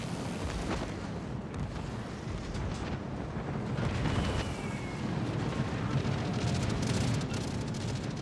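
A bomb striking a ship in a naval combat video game, heard as a continuous rumbling, crackling wash of explosion and battle noise lasting several seconds at steady loudness, with no voices.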